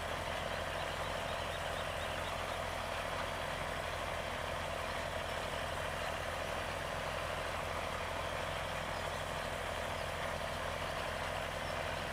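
A tractor engine labouring up a hill in Farming Simulator 17, a steady, droning low hum that holds an even level with no change in pitch or gaps, and no voices.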